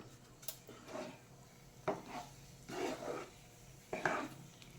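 Rice and coconut halbai thickening in a pan is stirred with a spoon, giving soft scraping strokes at an irregular pace, close by and fairly quiet, with no voices.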